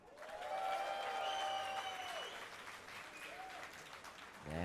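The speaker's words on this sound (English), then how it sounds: "Let me hear a cheer for Moscow 5." An esports crowd at a DreamHack 2012 League of Legends semi-final cheers and applauds for Moscow 5. The sound is a loud, sustained wash of clapping and cheering that holds for the whole clip, with one whistle-like tone rising above it.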